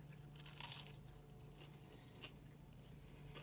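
A bite into a thin, crispy Popeyes classic chicken tender, with one crisp crunch followed by a few fainter chews, close and quiet.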